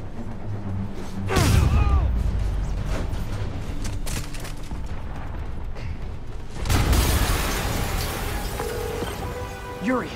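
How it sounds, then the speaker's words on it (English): A heavy explosion in the Spider-Man video game booms out, followed by a dense rumbling roar and crackle of debris, with a second big blast several seconds later over a continuous loud backdrop. "An explosion just... I saw it."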